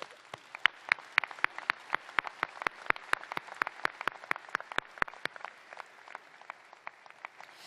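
Sparse, distinct claps ring out in a hall at a business school precommencement ceremony, a thin round of applause with individual hand strikes spaced irregularly for several seconds, fairly clear and close.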